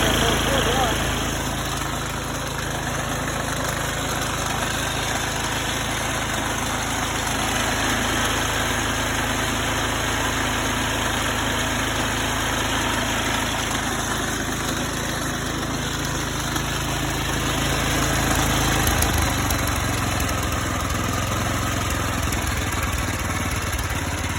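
A John Deere R72 riding lawnmower engine runs steadily and loudly throughout, a continuous close rumble, with voices faintly mixed in beneath it.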